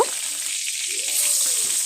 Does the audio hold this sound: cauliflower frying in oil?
yes